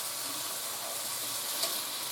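Pineapple chicken glaze sizzles and bubbles in a hot pan as it is stirred, a steady close crackling hiss that continues without pause, with no talking.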